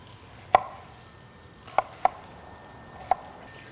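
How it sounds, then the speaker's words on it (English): A knife chops large yellow onions into fairly big dice on a board, five sharp, separate knocks at uneven intervals, close and clear with no talk. "we've got a couple of large yellow onions. We're also gonna dice these fairly large"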